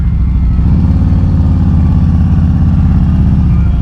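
Several Harley-Davidson motorcycles rumble loudly and steadily at a dealership's Easter event, a dense low engine drone with rhythmic pulsing throughout, close by and continuous.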